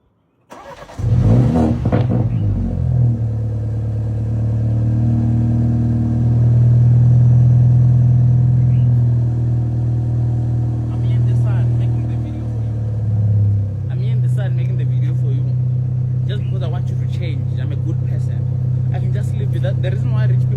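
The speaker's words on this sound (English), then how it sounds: "Let me just start it so that it can be warming up while you are busy watching me." A BMW engine cranks and catches near the start, then settles into a steady low idle while it warms up, with a small shift in pitch partway through. Someone talks over the running engine toward the end.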